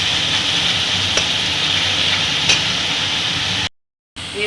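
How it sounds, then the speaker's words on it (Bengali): Onion paste fries in a wok with a loud, even, close sizzle that runs without a break, then cuts out briefly before starting again. "দুটো পেঁয়াজ আমি পেস্ট করে নিই, এটা আমি কড়াতে এখন ভাজছি।"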